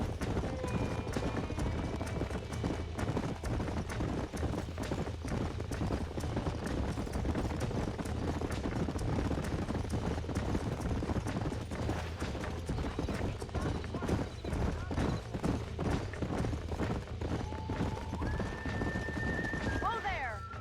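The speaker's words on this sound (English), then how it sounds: "These are fine horses." Horses gallop in Red Dead Redemption on Xbox One, a dense, continuous run of hoofbeats clattering alongside neighs and whinnies, with game dialogue spoken over the ride.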